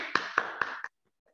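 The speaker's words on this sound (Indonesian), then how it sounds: "beri tepuk tangan untuk kita semua" Classroom hand clapping: roughly four sharp, evenly spaced claps close by, ending abruptly and leaving near silence.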